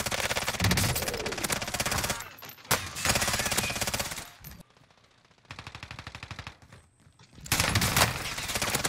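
Finn LMG machine gun fire in Warzone: long, loud, rapid automatic bursts rattle in several sustained strings, separated by short pauses and one near-silent gap.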